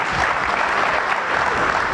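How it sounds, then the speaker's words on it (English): Steady, dense clapping from a crowd fills the whole stretch at an even, fairly loud level. "you can clap for Matthew."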